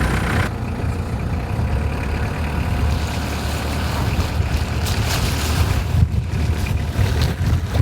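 A van engine starts and runs during a snowstorm camping trip, a loud steady rumble with heavy wind-like roar that begins abruptly and continues evenly throughout.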